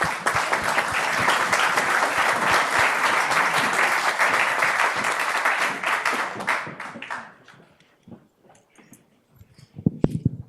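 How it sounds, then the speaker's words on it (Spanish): An audience at an awards ceremony applauds warmly, a dense sustained wave of clapping for about seven seconds that thins out into a few scattered claps and faint rustling. "Un aplauso."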